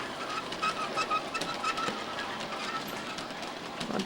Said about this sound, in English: This is a slow-moving train. The porter easily pulls these 3 cars.